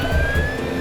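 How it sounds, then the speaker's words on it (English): An ambulance siren sounds as one steady, loud high tone with no pauses, over a low rumbling background for under a second. "Here's the ambulance. Go!"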